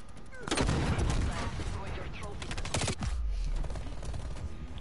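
Rapid gunfire rattles through a Call of Duty: Cold War hardpoint multiplayer match, with dense automatic bursts and sharp shots, close and steady for several seconds over a low rumble.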